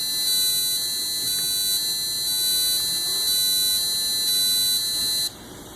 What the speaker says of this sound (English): So now you're in full alarm mode